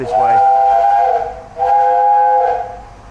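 Steam locomotive Tornado sounding its whistle at Beaulieu Park railway station in Chelmsford, two loud sustained blasts close by, each about a second and a half long, separated by a brief gap.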